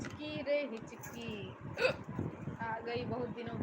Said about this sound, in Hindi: आ गई, बहुत दिनों के बाद हिचकी।